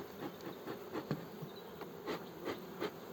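Honeybees buzz at an opened beehive in early spring, a steady faint hum with soft knocks and clicks scattered throughout.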